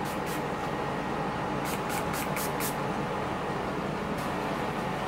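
Gel hair spray misted from a can while styling a non-surgical hair replacement system, giving a steady close hiss with several short bursts of brighter spray over a constant noisy background.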